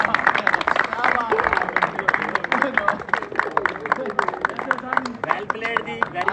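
Crowd applause at a Pakistan Premier League final match award ceremony in Logroño, steady dense clapping mixed with loud crowd chatter and voices throughout.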